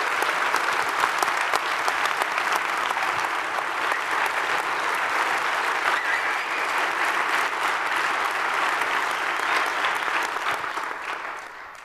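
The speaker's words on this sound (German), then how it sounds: "auch dafür nochmal einen Applaus." Sustained applause from a conference audience at a digital-sustainability event, steady and dense for the full stretch, fading slightly at the end, with no talking over it.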